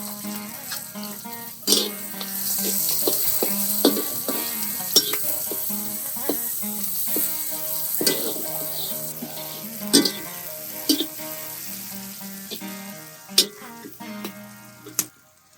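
Curry leaves, green chilli and shallots crackle and sizzle in hot oil in a pan for a Vaazhaipoo usili, a continuous close frying hiss broken by sharp pops and spits, with clinks of stirring.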